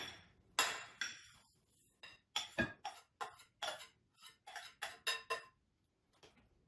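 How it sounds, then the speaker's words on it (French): A spoon mixes mascarpone, eggs, sugar and strawberries in a bowl, giving a run of sharp, clinking scrapes and taps in irregular bursts, close and fairly quiet, with short silences between strokes. "je vais les mélanger avec mon mascarpone, les œufs et le sucre, très délicatement"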